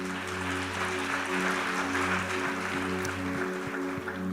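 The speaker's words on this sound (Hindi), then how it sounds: "तालियां बजा दो सिस्टर जी की" Applause from a church audience for a sister during a sermon, a continuous wash of clapping heard through a hum-laden, reverberant hall.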